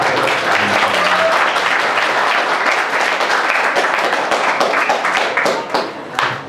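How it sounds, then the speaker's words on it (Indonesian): A school audience at a Rupiah currency education event breaks into dense, sustained applause, loud and close, with a voice briefly audible underneath before the clapping thins out near the end. "Beri tepuk tangan"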